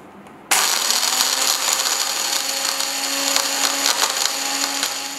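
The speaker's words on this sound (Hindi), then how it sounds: "अब जो मसाला हमने भुना है उसको हम अच्छे से मिक्सी में ग्राइंड कर लेंगे।" A mixer grinder grinding roasted spices kicks on abruptly with a loud, steady high-pitched whir, grinding continuously for several seconds after a brief quiet moment.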